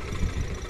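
A tractor stuck in a pond's mud, one wheel sunk, runs with a steady low rumbling engine drone, close and continuous with no speech.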